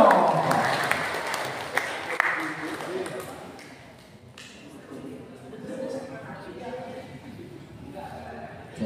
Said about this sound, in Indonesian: Beri aplaus yang meriah buat Mas Dimas